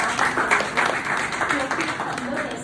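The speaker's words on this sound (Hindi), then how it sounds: "तालियां" A crowd at a BJP women's wing political gathering in Rajasthan claps loudly and continuously for a few seconds. A speaker's amplified voice carries over the applause.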